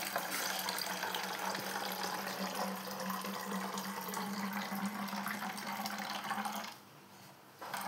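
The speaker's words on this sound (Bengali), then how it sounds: "এর মধ্যে আমি এই সোডা দিয়ে দিচ্ছি। আমি এটাকে ঢেলে নিচ্ছি একটা পাত্রের সাহায্যে।" Homemade Sprite-style soda is poured from a vessel into a container, a steady fizzy splashing rush that runs for several seconds and then stops abruptly near the end.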